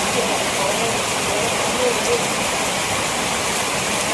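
Rain pours steadily on a rainy day, a loud, even, unbroken hiss with no distinct drops standing out.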